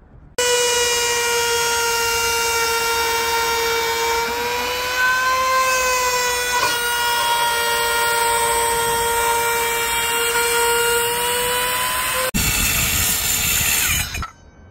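A small wood router trimmer cuts stepped, L-shaped grooves into a wooden subwoofer speaker panel, a loud, close, sustained high-pitched motor whine with shifting load that runs for over ten seconds, then is abruptly cut off and spins down.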